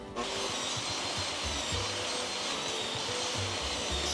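A table saw rips 12-inch-long wooden boards, a steady, loud whining motor with the blade's continuous bite through the wood, close by and alone for the whole stretch.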